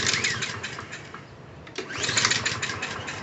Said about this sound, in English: Before I do anything else, I'm going to try to start this lawnmower.